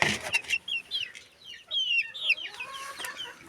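Chickens and a rooster cluck and squawk in a busy, overlapping flurry at morning feeding in a farmyard, with sharp calls rising over a low background throughout.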